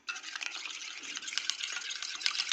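Spice mix being stirred with a little water in a pan for an Assamese pork and vegetable mustard dish, a steady close scraping and swishing with small clinks running throughout.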